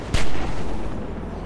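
A single loud, close gunshot from The Walking Dead Season 2 video game, a sharp crack followed by a long rumbling decay, with no talking.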